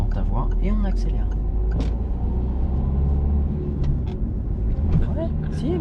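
Car engine rumbling steadily as it pulls away and accelerates during a driving lesson, a continuous low drone inside the cabin under an instructor and learner talking.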